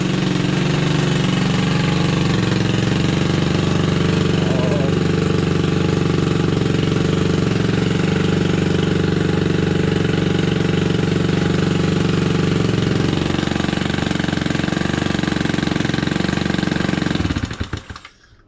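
A scooter engine, just choke-started after having its idle adjustment screw removed, runs loud and close with a rough, knocking, low idle for about seventeen seconds before shutting off.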